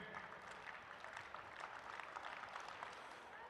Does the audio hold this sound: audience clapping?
yes